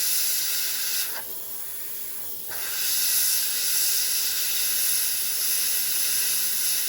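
A steady airy hiss of an airbrush spraying paint onto a 1/48 scale Sabre model runs almost throughout, briefly thinning for about a second before returning at full strength, with no voices.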